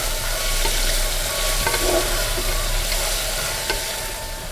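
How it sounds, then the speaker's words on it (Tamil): Sliced onions for chickpea biryani frying in a pan, giving a steady close sizzle with spatula scrapes and stirring, a low hum running beneath and fading slightly toward the end, with no speech. "இப்போ இந்த வெங்காயம் நல்ல பொன்னிறமாக வதக்கணுங்க"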